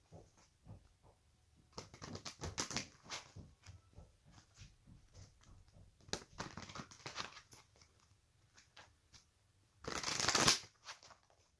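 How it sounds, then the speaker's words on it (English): Large, oversized oracle cards are shuffled by hand in bursts of riffling and sliding, faint and close, with a louder flurry near the end. "These cards are so hard to shuffle."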